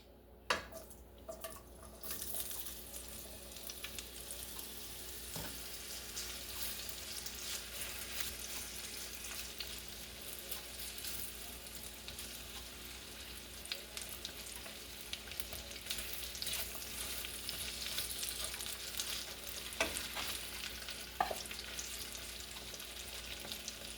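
Potatoes fry in oil in a pan over medium heat with onions and peppers, giving a steady, dense sizzle that runs throughout, with a few faint scrapes and clicks near the start.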